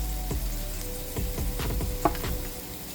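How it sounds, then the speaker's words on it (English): Steak frying and being stirred in flour and oil in a hot pan, a steady close sizzle with scraping stir strokes through it. "Get this stirred up and mixed up with that flour and oil."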